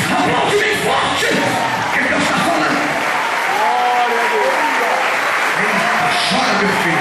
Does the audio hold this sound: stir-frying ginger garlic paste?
no